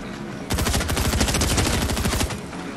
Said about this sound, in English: Yeah, I'm being shot at.